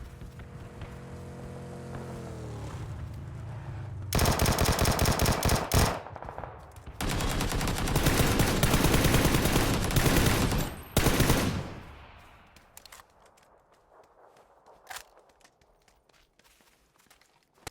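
A Tommy gun fires in long, loud automatic bursts in the shooter game PUBG, with footsteps before and after and a few quieter scattered shots near the end.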